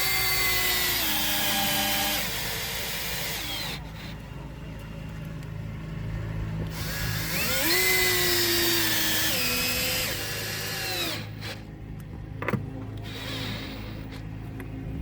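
A power drill drives screws into a floor to mount a diving board plate, its motor whining steadily and shifting in pitch as the screws bite in, loud and close with short pauses near the end.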